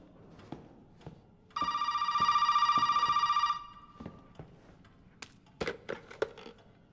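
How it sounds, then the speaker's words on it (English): An electronic telephone ring in the video game Resident Evil 7 sounds for about two seconds, clear and steady, amid scattered clicks and light knocks. "The phone rings."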